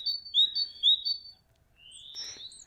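A bird gives a few bright, high chirping calls in quick bursts, followed by a single rising whistle after a short pause, clear against quiet surroundings.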